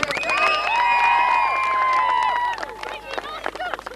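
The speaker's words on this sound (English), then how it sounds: "a round of applause for Johnny MacDonald" Hurling crowd at a 1998 county intermediate final, loud and close, with sustained cheering and shouting voices carrying over scattered clapping before it thins out into mixed crowd noise.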